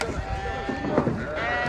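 Sheep bleat among the bustle of a crowded livestock market in Hafr Al-Batin, with their cries close and overlapping and people talking in the background.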